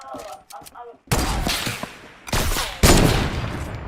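Rapid gunfire bursts from a first-person shooter video game, loud and sharp, with several heavy shots in quick succession after a brief stretch of quieter game sounds.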